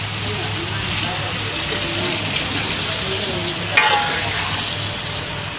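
Beef curry bubbles and simmers in a pot with added water for the gravy, a steady close sizzling hiss holding under a low hum, with a brief stir or clink partway through.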